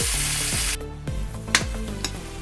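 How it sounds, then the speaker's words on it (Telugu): Potato pieces stirred as they fry in a pan for a beans and potato curry, a steady sizzle broken by a sharp drop, then renewed hissing with a few clicks from the utensil. "ఆలుగడ్డ ముక్కలను వేసుకుంటున్నాము."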